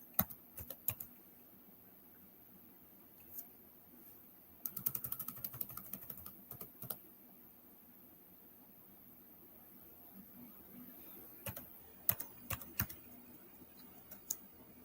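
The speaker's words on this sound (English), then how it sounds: "I'm still having a problem typing." Quick bursts of keystrokes on a computer keyboard, soft and fairly close, arriving in uneven clusters separated by quiet pauses, with no voices.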